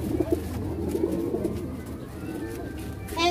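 A fancy pigeon gives a few soft, low coos close by, brief and repeated within a short stretch, set against light background noise.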